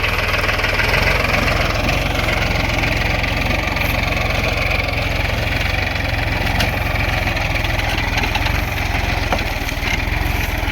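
A Solis 4515 45 HP tractor engine idles steadily with a plough attached, a loud, continuous low rumble with a fast, even throb that holds unbroken for the whole stretch, no voices over it.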